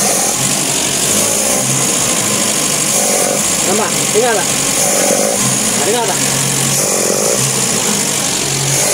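A Nissan C22 Vanette with low power and hard starting has its engine run up, giving a loud, steady motor drone throughout while someone talks over it.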